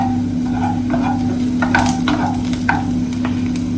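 Onions sauteing in a pan give off a steady, close sizzle with occasional scraping stirs of a utensil against the pan, heard alone over a constant low hum.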